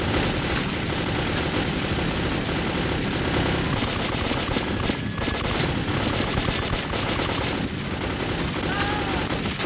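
Dense, continuous gunfire fills a Metro 2033 video game fight, rapid automatic bursts and shots overlapping loudly and without pause for the whole stretch.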